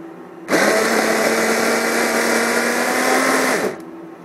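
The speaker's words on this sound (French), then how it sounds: "j'ai mis les champignons dans un hacheur pour les hacher" An electric food chopper whirs through mushrooms: one loud, steady motor drone that starts sharply, holds for about three seconds and then stops.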